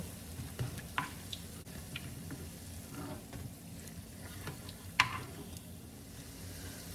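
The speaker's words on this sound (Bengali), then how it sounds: "এভাবে আস্তে আস্তে আমি সবগুলো বড়া ভেজে নিব।" Onion pakora fritters frying in hot oil, a soft, steady sizzle with occasional louder pops and a few utensil clicks, with no speech.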